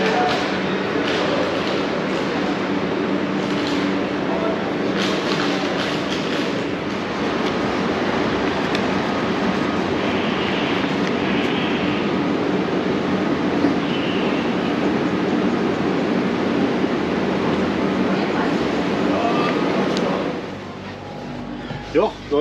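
Train running on the line out of suburban Istanbul toward Sofia, a steady loud rumbling ride with rail noise throughout, fading out at the end.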